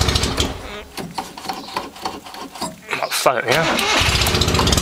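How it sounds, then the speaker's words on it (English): A small engine with a rusted-out muffler replaced by a straight pipe cranks and catches with the choke on, then runs loud, raw and uneven close by. Someone speaks over the start. "Engine starts beautifully, but I've got to adjust everything to get it to run properly"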